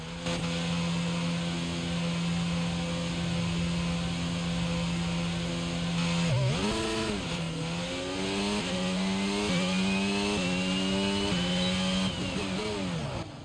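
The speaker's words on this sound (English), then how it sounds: "I'll let you listen to the engine as we're going out as well." A Formula 1 car engine in a racing video game drones steadily at a high pitch, then dips and climbs through several quick gear changes as it accelerates, loud and close.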